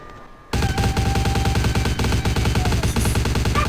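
Rapid automatic gunfire shot into the air in Vampire: The Masquerade – Bloodlines, a loud, steady burst of closely spaced shots starting abruptly after a quiet moment and running unbroken to the end.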